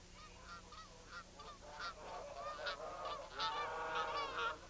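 A flock of geese honks repeatedly, overlapping calls rising and falling in a noisy, continuous chorus at moderate distance.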